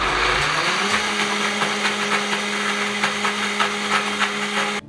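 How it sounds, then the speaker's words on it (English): A blender runs steadily on high, whirring as it purées chickpeas and other ingredients into thick, smooth hummus, with a loud, continuous motor drone that stops abruptly at the end. "Let's blend it up."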